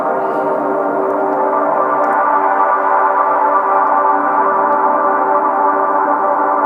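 A basic synth pad swamped in heavy reverb drones as a steady, dense sustained chord, even and unbroken throughout, with no voices.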